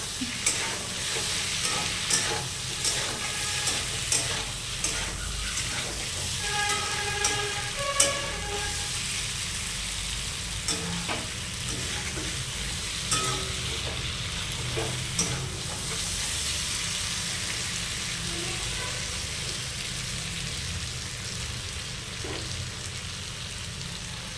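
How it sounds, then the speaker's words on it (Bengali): Steamed green banana fries in a pan with a steady sizzle as a spatula stirs and scrapes it in repeated strokes, close by, the stirring easing off toward the end while the sizzling continues, no talking. "এবার আমরা খানিক নাড়াচাড়া করে নেবো এটা"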